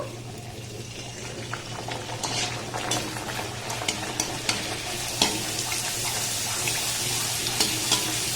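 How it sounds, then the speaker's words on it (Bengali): Luchi, puffed bread made with ripe palm, deep-frying in hot oil: a steady bubbling sizzle with occasional sharp crackles and spatters, close by over a low background hum and without talking. "এটাকে উঠিয়ে নিলাম আবার একটা দিয়ে ভেজে নেব"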